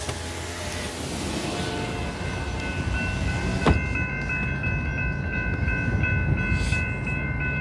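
A westbound freight train rolls through Friona, Texas, a loud, close rumble of wheels and cars with a sustained horn tone layered over the rolling noise, one brief sharp bang in the middle, no voices.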